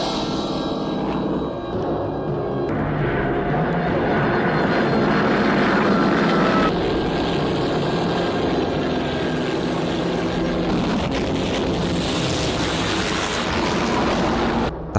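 Droning WWII propeller fighter engines, including Messerschmitts, roar loudly and continuously, the pitch and texture shifting as planes pass, forming a dense mechanical rumble with no speech.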